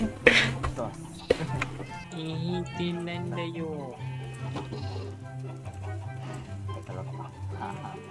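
Goats bleat in the Minecraft video game, several wavering calls in a row heard close, while a person talks over them.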